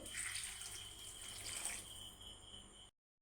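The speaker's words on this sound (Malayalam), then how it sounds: "ഇനി ഞാൻ വെള്ളം ഒഴിക്കുകയാണ്" Water is poured into a pan of mushroom curry for a few seconds, a continuous splashing rush that stops abruptly.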